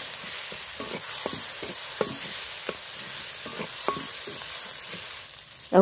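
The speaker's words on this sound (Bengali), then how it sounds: "জিরে গুঁড়ো দিয়েও একটু ভালো করে নেড়ে নেব" A spoon scrapes and stirs a spiced masala with ground cumin in a frying pan, steady sizzling of oil underneath, with irregular clicks of the utensil against the pan, close and moderately loud, without talk.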